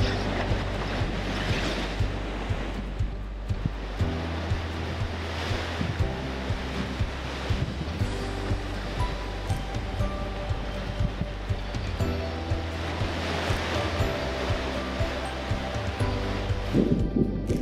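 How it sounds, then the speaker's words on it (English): Ocean waves crashing on the shore at Great Guana Cay in the Bahamas, a loud continuous roar of surf with swelling breaks and heavy wind rumble against the microphone, no voices. "This is where we could see the waves crashing from on the other side of the island."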